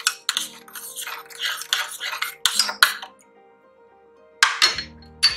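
A spoon stirs salt into oats porridge in a metal pot, making repeated clinks and scrapes in uneven bursts, with a pause and then a couple more clanks near the end, close and clear.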